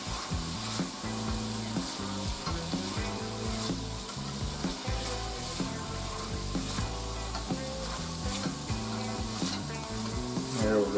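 Butter melting in a pan for shrimp pasta, a soft steady sizzle with occasional stirring scrapes, heard close and fairly quiet, with music playing underneath.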